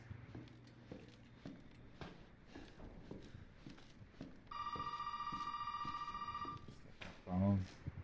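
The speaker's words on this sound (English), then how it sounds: "Phone." A telephone rings inside the Resident Evil 7 demo, a sustained electronic bell tone of about two seconds standing out over quiet game ambience and footsteps, followed by a short low thud.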